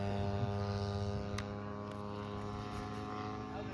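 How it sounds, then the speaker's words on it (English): A radio-controlled scale Stuka model plane flies with a full load at a scale contest, its engine drone steady and fairly loud with a constant harmonic buzz and no talk. "Now the plane is up with a full load."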